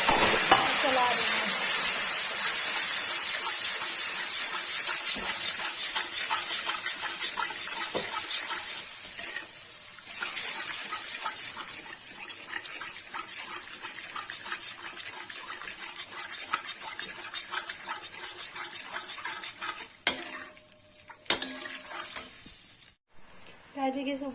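Turmeric and red chilli frying in hot oil for Kashmiri dum aloo, stirred in a pan: a steady bright sizzle with light scraping, loud at first and easing off, with a few clatters near the end.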